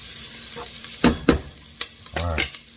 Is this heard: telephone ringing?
no